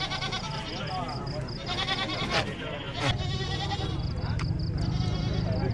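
Goats at a market in the northern Vietnamese mountains bleat again and again over a busy crowd. Someone talks throughout, and the calls come in short bursts under his voice.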